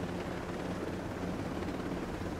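A helicopter in Ghost Recon Breakpoint keeps up a continuous, even rotor and engine roar that stays steady and fairly quiet throughout.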